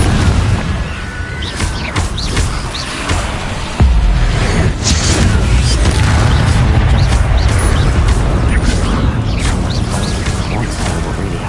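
Confringo fire spell blasting in a Harry Potter-style video game, a series of booming explosive bursts and crackling impacts that stay loud and dense throughout, with a voice calling spells over the action.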